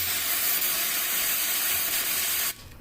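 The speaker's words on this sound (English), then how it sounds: "we're going to spray this with some brake clean real quick" Aerosol brake cleaner sprays in a steady, close, loud hiss onto a Honda Element car filter, then cuts off abruptly near the end.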